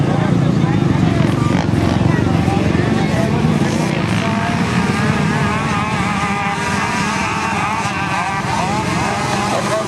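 Mini quad ATVs racing on a track at an ATVA nationals meet at Sunset Ridge, a steady loud engine drone filling the whole stretch under continuous announcer talk.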